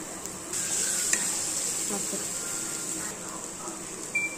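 Ginger garlic paste frying in a pan after tomatoes, a steady close sizzle with occasional stirring scrapes and light utensil knocks running throughout.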